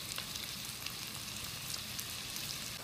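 Onions cooking in oil and butter in a pot for lazanki, a steady soft sizzle and crackle with faint scraping as the food is stirred, close, quiet and continuous, with no talk.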